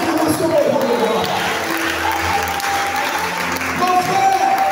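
Church congregation applauding and cheering at a midday worship session, steady dense clapping with crowd voices throughout, fairly loud and sustained.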